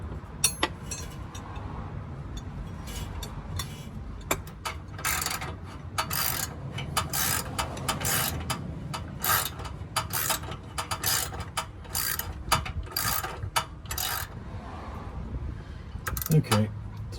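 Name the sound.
12mm socket wrench with wobble extension ratcheting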